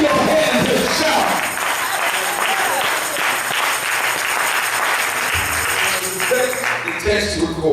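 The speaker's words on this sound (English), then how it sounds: "Somebody, for the second time, clap your hands and shout." Church congregation clapping hands and shouting, dense sustained applause and cries from many people filling the room, loud and close throughout.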